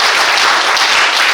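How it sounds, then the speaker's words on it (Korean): Applause from a lecture audience at a Korean history forum, a dense steady wash of many hands clapping close and loud for the whole stretch, with no talk over it. "다시 한번 박수 부탁드립니다."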